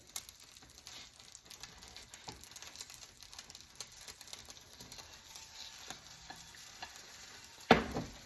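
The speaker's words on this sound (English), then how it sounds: "I didn't use as much butter as I usually do, and as a result the egg is sticking to the pan a little bit." An egg fries in a pan with a thin coat of butter and sticks a little, giving a steady soft crackle with scattered scrapes and one sharp clatter near the end; no one talks.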